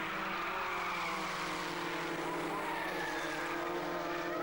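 Racing cars at Mallory Park heard on the last lap, a continuous far-off engine whine and drone blending together at moderate distance, fairly faint overall.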